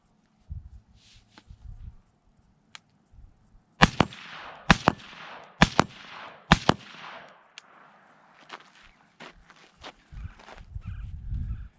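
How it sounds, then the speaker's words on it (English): Suppressed shots from an AR rifle fitted with an Armaments Vox S suppressor at a shooting range, four sharp close cracks spaced about a second apart, with footsteps and light handling noise in between. "Armaments Vox S on the Radical Arms firearm AR, you're gonna hear it's gonna be much quieter"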